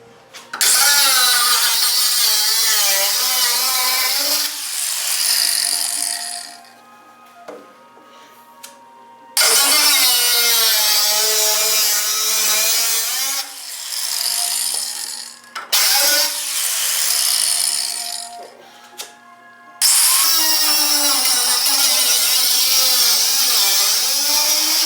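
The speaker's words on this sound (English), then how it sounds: "I've got the Sawzall out" A Sawzall reciprocating saw cuts into the body of a 1966 MG Midget under restoration, loud buzzing bursts of several seconds each separated by brief pauses, close by with no talk.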